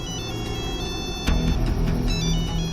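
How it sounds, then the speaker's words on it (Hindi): A telephone rings, its tone rising suddenly partway through, over a steady low background rumble. "फोन की आवाज सुनाई दे रही है।"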